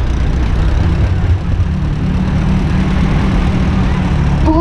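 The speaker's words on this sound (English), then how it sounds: "He's in a 1950 D case, and it's 30 horsepower." A 1950 Case D tractor with a 30 horsepower engine runs steadily at a fair parade, a continuous low rumble close by.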